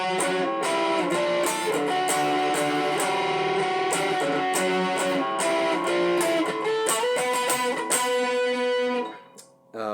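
Electric guitar on the neck pickup, volume rolled back, plays a song's pre-chorus in a lesson setting: sustained, steady chords ringing loud and continuous for about nine seconds, then cut off abruptly near the end.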